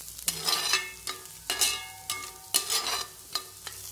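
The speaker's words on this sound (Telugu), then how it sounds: "ఒక ఆనియన్ కట్ చేసి బెండకాయతో పాటు ఆనియన్ కూడా ఫ్రై చేయాలి" Sliced onion and okra frying in a pan, sounding as bursts of sizzle and scraping each time the pieces are stirred, with short lulls between, close and without talk.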